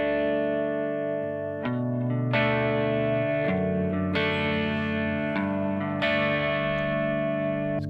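A sustained electric guitar chord sequence from a lo-fi cover rings out, each new chord struck every second or so and washed in heavy reverb with a chorus-like shimmer.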